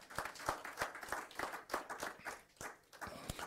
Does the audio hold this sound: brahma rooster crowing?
no